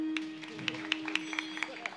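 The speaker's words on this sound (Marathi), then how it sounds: "जोरदार टाळ्या." Steady rhythmic clapping from an audience at a Marathi devotional kirtan, crisp evenly spaced claps over a sustained low drone tone, with faint voices in the background.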